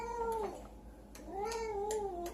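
A cat gives two drawn-out, wavering meows close by, separated by a short pause, over a faint steady background hum.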